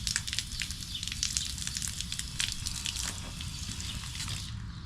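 Water splashes and trickles steadily over a pair of eyeglasses being rinsed, a close, continuous hiss of running liquid with scattered drips.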